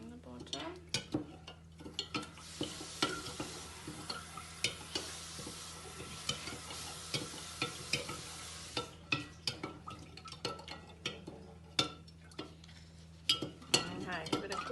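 A big spoon stirs homemade lemonade in a jug, knocking and clinking against the sides in a steady run of sharp taps and scrapes, fairly close, with light fizzing between strokes and no talk.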